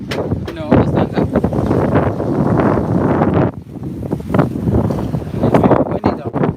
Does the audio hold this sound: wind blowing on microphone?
yes